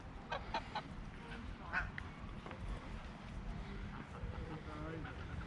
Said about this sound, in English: I've bumped into geese, so thought I would say hello to the geese with you